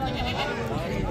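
Goat bleats at a crowded Eid livestock market in Dera Ghazi Khan, mixed into a dense, steady din of animal calls and voices nearby.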